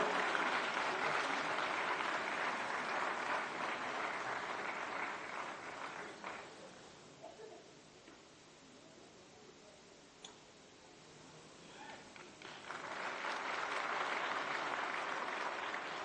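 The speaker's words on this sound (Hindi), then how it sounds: "जोरदार तालियां, जोरदार स्वागत।" An audience at a formal ceremonial event applauds in a sustained wash of clapping that dips to quieter scattered claps midway, then swells back to full applause toward the end.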